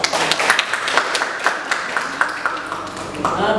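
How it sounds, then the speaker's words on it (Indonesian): A classroom of students claps for classmates at a teacher's request, steady moderately loud clapping with uneven rhythm over a few seconds, some chatter mixed in. "Ya, kita beri tepuk tangan."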